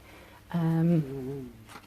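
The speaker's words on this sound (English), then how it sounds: "that's the dog yawning" A dog yawns indoors, one drawn-out squeaky whine that slides downward and fades over about a second, fairly close and moderately loud above a quiet room.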